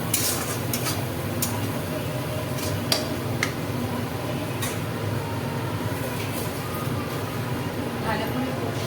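Curry with turmeric being stirred and sautéed in a pan, with a steady sizzle and scattered light clicks of a spatula against the metal throughout, close by.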